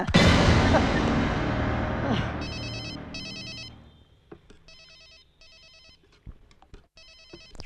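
A telephone rings in repeated electronic bursts as a loud rumbling crash fades out beneath it, then the ringing continues alone with sharp clicks.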